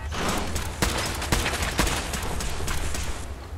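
Turret gunfire in the video game Fallout 4, a dense burst of rapid shots with sharp louder cracks standing out above a continuous roar of fire, loud throughout.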